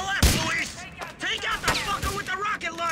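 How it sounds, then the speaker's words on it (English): Shotgun fire in the video game GTA, a couple of sharp blasts among scattered gunfire, mixed with excited voices talking over the action. "That's a shotgun."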